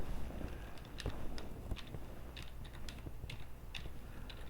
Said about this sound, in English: And I type in America.